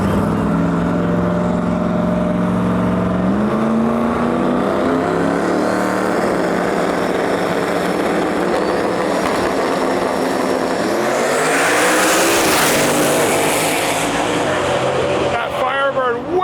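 Drag racing cars, including a Mustang, roar down the strip in a loud sustained run, engine pitch climbing through gear changes and a second car sweeping past, with an announcer talking over it.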